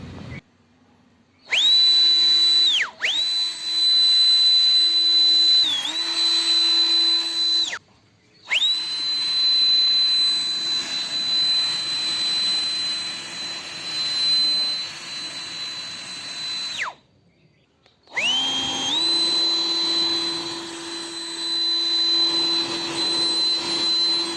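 A compact, low-cost high-power turbo blower fan runs in bursts set by a trigger switch, giving a loud steady jet-like whine that drops out briefly between runs and restarts, with no talk.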